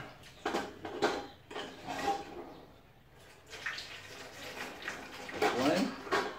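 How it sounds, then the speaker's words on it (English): Boiling water poured over kitchen utensils in a container to sterilize them, a splashing, running pour with light clinks of metal, rising and falling in bursts over several seconds. "I will put this hot water into my utensils so it will be sterilized"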